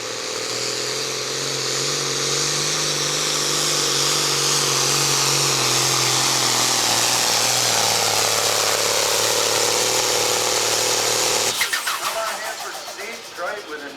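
A 1972 Case 1175 pulling tractor named Endangered Species roaring at a truck and tractor pull, a loud, sustained engine howl climbing in pitch before cutting off sharply, with an announcer talking over it.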